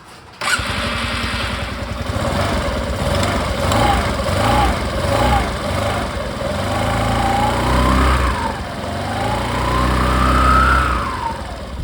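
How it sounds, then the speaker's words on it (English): Suzuki Access scooter engine idling and revving steadily after new variator pulley rollers and rubber are fitted, a close, continuous buzzing hum with rising and falling pitch swells. "Now I will start the bike and I will check what type of sound is coming and how the pulley is rotating."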